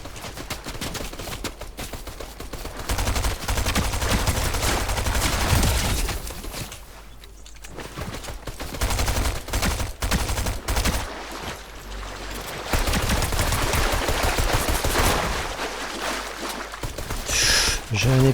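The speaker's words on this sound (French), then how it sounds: "c'est pas gentil les gars de me tirer dessus" Gunfire in the Fortnite video game, Season 7, with bursts of shots recurring through the scene under steady talk from a player.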